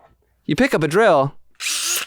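After someone speaks, a voice imitates a power drill with a short, loud, buzzy whirring burst, close up.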